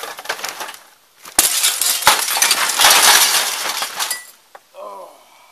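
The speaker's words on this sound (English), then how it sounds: "Punching windows." Window glass shatters under a punch in a loud, sustained crash of breaking shards that lasts a few seconds, with a quick clink afterward and a voice speaking briefly at the end.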